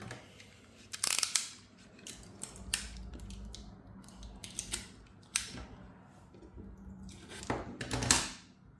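Adhesive tape is pulled off a roll and cut while fitting a case to a Kiisu Flipper Zero-style handheld gadget, giving a few sharp close tearing and snipping bursts in a quiet room.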